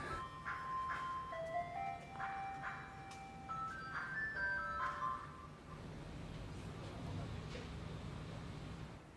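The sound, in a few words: ice cream truck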